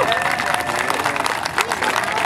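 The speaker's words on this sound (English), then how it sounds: "Let's get a big round of applause for Richard over here." Fair crowd applauding and cheering as an alligator wrestler is introduced, giving a dense, steady wash of clapping for a couple of seconds without pause.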